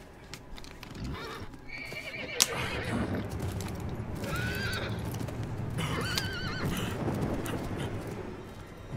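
A horse in Diablo IV whinnies a few times over steady clip-clop of hooves, the neighs rising and falling in the middle and later parts, with game ambience running underneath and no speech.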